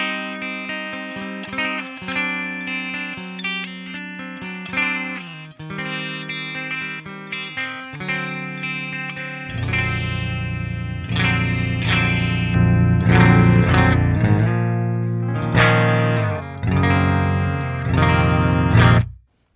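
Used B.C. Rich electric guitar on an amp's clean channel with its hot pickup lowered, played as a steady run of picked notes and chords that grows fuller and louder in the second half, with no talking.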